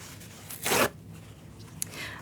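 A paper towel is handled during acrylic painting, giving one short crinkly rustle near the start, then a small crisp tick and faint shuffling afterward in a quiet room.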